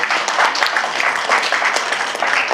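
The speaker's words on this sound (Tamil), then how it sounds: "எல்லோரும் சேர்ந்து உற்சாகமான கரகோஷத்தை இரண்டு அணிக்கும்" Steady, dense applause from a crowd at a debate event, many hands clapping continuously without pause.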